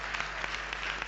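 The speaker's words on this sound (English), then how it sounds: "We also want to clap for our judges. Let us give them a hand." Brief burst of applause for the judges at a high school debate, steady crowd clapping at a moderate, slightly distant level with no voices over it.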